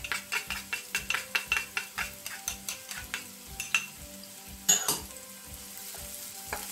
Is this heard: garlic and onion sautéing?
yes